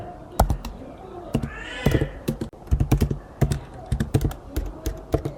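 Rapid, irregular clicks of typing on a computer keyboard, fairly close, with a brief cat meow partway through and a faint voice in the background.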